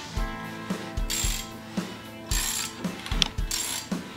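A hand ratchet turns the rotating assembly of a Turbo Colt Vista wagon engine on the stand, making repeated rapid clicking runs with metallic ringing and short pauses, close up and moderately loud.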